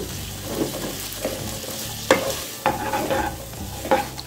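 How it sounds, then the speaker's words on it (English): Kidney beans sautéing in a pan for a rajma side dish, a soft sizzle broken by repeated scraping and stirring knocks of a utensil against the pan. "Now you saute this for again 2-3 minutes."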